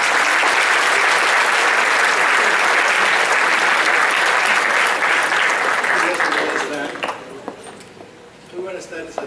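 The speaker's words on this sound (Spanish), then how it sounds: "Manuel Salinas Solís, para quien solicito un cálido aplauso, por favor." An audience applauds warmly for a guest speaker, a former magistrate, at a constitutional law lecture. The dense, steady clapping fills the hall, then thins out and fades to scattered claps near the end.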